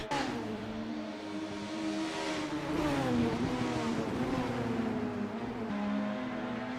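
Race cars from a sim racing game, GT4 Toyota Supra or BTCC Honda Accord, run close together through a chicane, engines droning and shifting pitch as they brake and accelerate, steady and loud with no talk.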